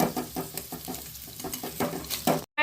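Paneer pieces fry in hot oil in a pan while cooking shahi paneer at home, a steady sizzle broken by rhythmic scraping pulses as pieces are moved, ending in a brief silence.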